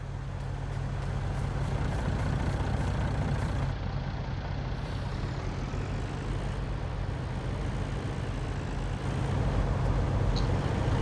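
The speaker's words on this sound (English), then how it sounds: "I left the engine running and the pipe out." A farm vehicle engine idles and rumbles steadily in Farming Simulator 19, a constant low drone with no talking and no clear changes over the whole stretch.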